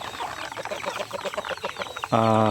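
Chickens cluck several times close by, followed by a loud drawn-out rooster crow at the end, on a Filipino backyard poultry farm.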